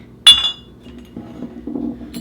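Glass bottles of homemade second-ferment kombucha clink once sharply as they are shifted on a surface, followed by softer knocks and shuffling, close and without talk.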